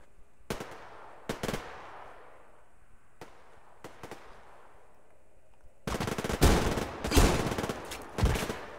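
Gunfire in the online shooter Survarium: a few sharp separated shots crack at a distance, then a denser, louder burst of rapid rounds follows near the end.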